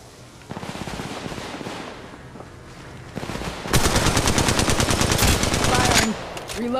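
Rapid automatic gunfire in the mobile shooter Apex Legends Mobile, a short burst followed by a longer, louder sustained stream of shots with a few quieter gaps, close and punchy.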